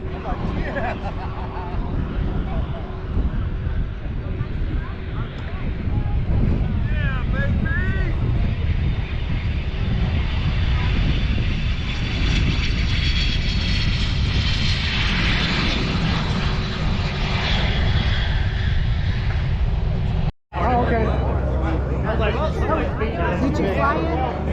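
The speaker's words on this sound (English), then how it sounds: "Coming in a Citation Jet." A Cessna Citation jet coming in at Mineral Wells airfield in Texas, its engine a sustained rising whine and roar near and loud, with people chattering around it and a brief cut near the end.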